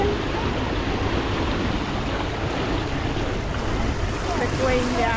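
Wave pool at the Hawaii water park in Odessa: a steady, loud wash of churning water and surf noise fills the whole stretch, with wind buffeting the microphone and no clear voices.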